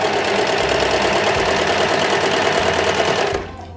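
A Brother 3534DT overlock serger runs steadily under pedal control, a loud, close, continuous mechanical whir and rapid stitching hum that holds evenly, then eases off as the pedal is released near the end.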